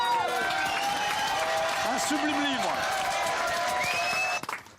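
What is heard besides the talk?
applause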